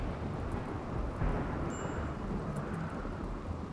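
Steady rain falls in a video game, a soft, even wash of patter with a low rumble underneath that stays faint and continuous throughout, with no talking.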